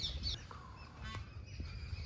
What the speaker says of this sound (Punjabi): ਅੰਦਰ ਮੋਰ ਬੋਲ ਰਹੇ